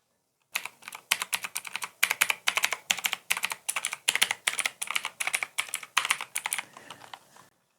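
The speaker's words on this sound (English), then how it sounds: "is what a blue switch keyboard sounds like" A blue switch mechanical keyboard is typed on steadily, each keystroke a loud, sharp, bright click, the dense rhythmic run starting after a brief pause and easing off slightly before stopping.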